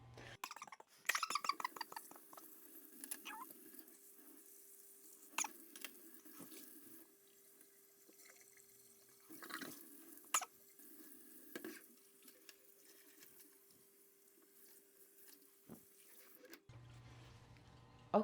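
Running tap water rinses out a bong in a sink, a steady close stream with occasional splashes and sloshing bursts, then the flow cuts off near the end.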